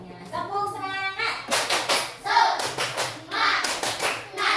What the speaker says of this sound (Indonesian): Oke, semuanya tepuk semangat.